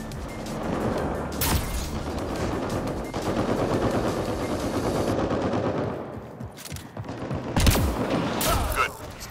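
Rapid bursts of automatic gunfire and scattered shots in Mass Effect: Andromeda multiplayer combat, loud and sustained with sharp heavy blasts punctuating the clatter.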